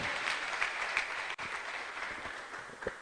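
Steady applause from a church congregation clapping hands for Jesus during a testimony service, a dense even roar of claps throughout.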